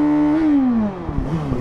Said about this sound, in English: A little skid to clean the tires off.